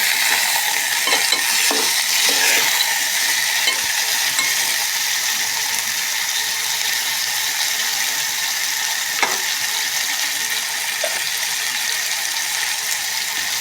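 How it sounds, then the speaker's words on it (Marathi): Potatoes and capsicum stir-fried in a pan, a steady bright sizzle running throughout with occasional scraping clicks of the spatula against the metal, close and without speech. "ढबू मिरची आणि बटाटे घातलेले आहे, असं परतून घेणे."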